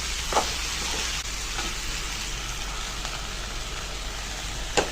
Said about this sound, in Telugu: ఈ ఉల్లిపాయ ముక్కలు, ఉప్పు, కారం ఇదంతా ముక్కలు పట్టేలాగా కలుపుకోవాలి